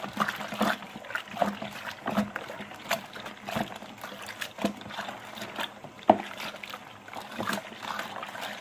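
Home brew kit liquid is stirred in a fermenting bucket, giving soft sloshing, trickling and splashing. Gentle irregular swirls are broken by a few small knocks, close and quiet.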